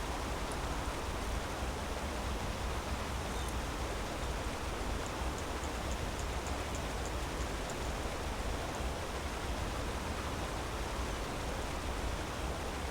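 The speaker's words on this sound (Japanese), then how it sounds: "効果音なんかな、この川の音。" Rushing river water ambience in the video game Enderal: a constant, loud, hissing wash of flowing water that fills the scene evenly without pauses.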